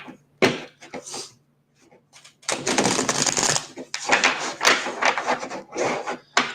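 A deck of tarot or oracle cards shuffled by hand several times at a card reading, riffling and rubbing in close, fairly loud bursts with short pauses between them.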